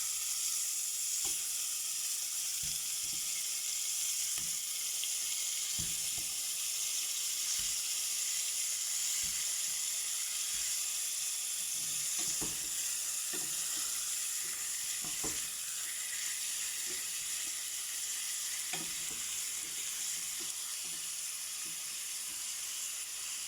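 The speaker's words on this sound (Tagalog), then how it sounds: "So yan, nag-brown na siya at ilagay na natin ang chicken. Chicken muna. Ilagay natin kasi para maano siya, parang ma-fry." Chicken pieces fry in a hot pan for a salona curry, a steady close sizzle running throughout with occasional scraping and stirring clicks from a utensil, no talking.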